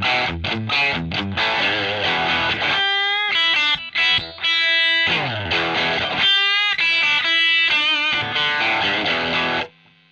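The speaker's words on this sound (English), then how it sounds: "You don't lose that crunch, that Matt Preston crunch, by having this compressor in front" A crunchy, mildly distorted electric guitar through an Orange Squeezer compressor pedal plays chords and single-note riffs, even and sustained, with slight single-coil noise, then stops abruptly near the end.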